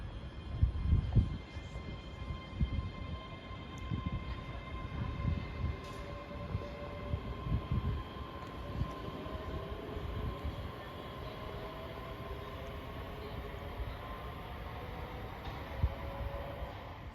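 A ScotRail train from Dunblane to Edinburgh Waverley pulls out of Haymarket station, its low rumble and rhythmic wheel thumps rolling steadily while faint tonal whines linger, heard from the platform at a moderate distance.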